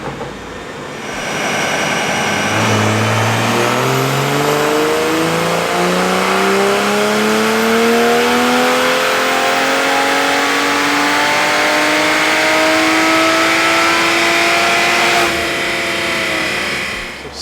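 Toyota Supra on a dyno with a stage 2 E30 tune, its engine pulling from low revs to a loud, rising high-rpm wail over about fifteen seconds before dropping off, with no talking.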